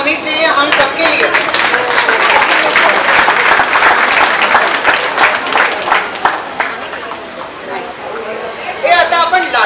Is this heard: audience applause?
yes